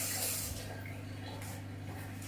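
Water runs in a brief steady spray while something is rinsed during the making of vegan ricotta wraps, a close, soft hiss over a low electrical hum, with no talking.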